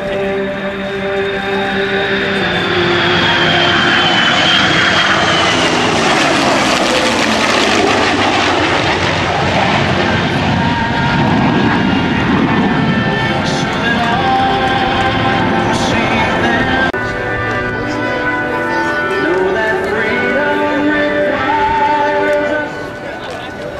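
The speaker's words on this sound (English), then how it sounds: "watch as this Heritage to Horizons formation approaches from behind for the third and final pass." The USAF Heritage Flight formation makes its final pass over an airshow, a loud, sustained roar of aircraft and jet engines that swells and shifts pitch as the planes approach and pass, with a crowd heard faintly underneath.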